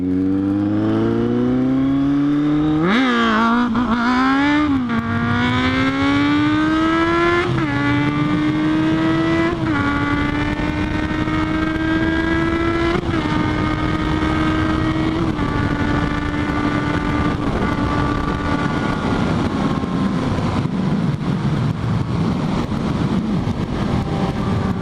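A Kawasaki Z800 motorcycle pulling away and accelerating through its first couple of gears on a rural road, the engine note climbing sharply, dropping at each shift, then settling into a steady loud drone close to the rider.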